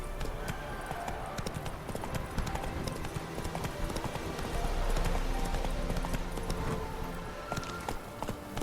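Horse hooves galloping in The Witcher 3, a steady rapid clip-clop close by under game ambience, swelling louder midway.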